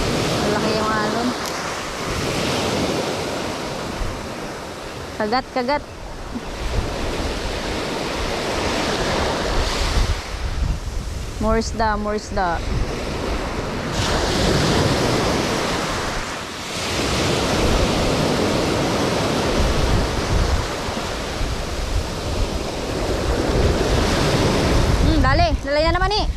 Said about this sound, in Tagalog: Malaki yung alon.